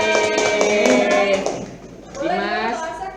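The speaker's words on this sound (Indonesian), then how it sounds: "tepuk tangan dulu untuk Raisa" Students in a classroom clap briefly in applause for a classmate, the claps mixed with children's voices talking over them throughout.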